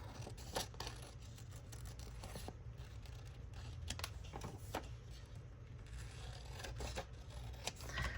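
Scissors snip through paper for a daily journal, a series of quiet crisp cuts and rustles close by, irregularly spaced and with no talking.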